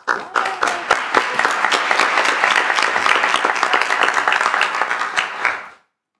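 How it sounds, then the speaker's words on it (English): A crowd at an evening event bursts into applause, loud, close clapping with distinct individual claps on top that holds steady for several seconds and then cuts off abruptly. "A round of applause."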